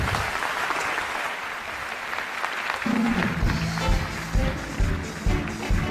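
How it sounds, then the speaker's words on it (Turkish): A studio audience on a Turkish television show gives steady, full applause that keeps going throughout. Partway through, a low rhythmic thumping and some voices join in beneath the clapping. "Kaptan babayı şöyle alkışlarla bir saniye alalım."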